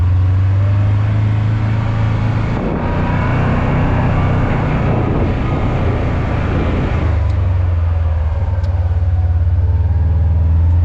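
A Kawasaki PRO-FXT 1000 LE side-by-side droning along at speed, a loud, steady low engine hum with wind rush that swells briefly in the middle, with no talking.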